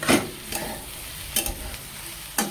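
Okra and carrot being stir-fried dry in a pan for a mixed vegetable dish, a soft steady sizzle broken by three sharp scraping stirs, close and alone with no talk.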